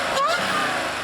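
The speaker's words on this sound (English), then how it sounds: "that supercharger sound." Supercharged engine of an Audi car with a high supercharger whine rising over a steady engine drone, loud and close.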